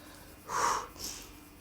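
A single breath exhaled during a guided workout exercise, a soft, airy breath with a fuller main puff followed by a smaller trailing one, close and fairly quiet, with no talking.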